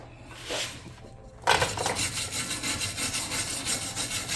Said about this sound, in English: I'm gonna go ahead and scrape this up.